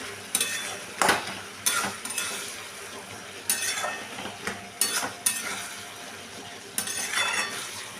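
Snake gourd and potato sauté with spices in a pan, giving a steady close sizzle broken by rhythmic scraping and clanking stirs of a spatula against the metal, with no voices.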